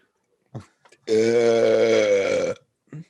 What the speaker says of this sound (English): Okay, burp off.